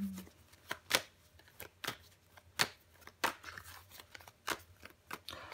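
Tarot cards are handled and turned over, making a run of crisp, quiet card snaps and flicks at an irregular pace, close by, in an otherwise hushed room.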